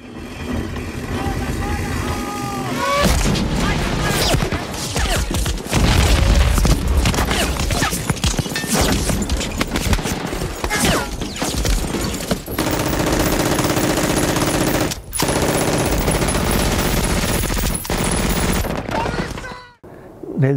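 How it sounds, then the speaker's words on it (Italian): Intense battle gunfire from the Normandy beach landing scene of Saving Private Ryan: dense, continuous bursts of rifle and machine-gun fire with booming impacts, loud and close throughout, with voices shouting beneath the barrage. "nel film di Spielberg, Salvate il soldato Ryan, la prima scena, lo sbarco in Normandia, dove si sentono quei colpi in un modo allucinante"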